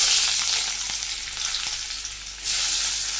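Chopped onions frying in hot oil with cumin seeds, a loud close sizzle that eases slightly and then surges back, no voices.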